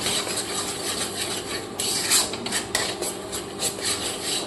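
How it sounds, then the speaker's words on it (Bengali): Tomato paste cooking down in a pan for an egg curry, with a spatula scraping and rubbing against the metal in repeated strokes over a steady broadband sizzle, close and continuous with no talking. "এবার এটাকে খুব সুন্দর করে কষিয়ে নিই।"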